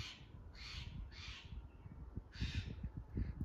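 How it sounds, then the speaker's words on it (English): Crows caw in a series of harsh, repeated calls, four or five bursts at moderate distance, with low rustling and handling noise underneath. "Oh, you're making the crows mad."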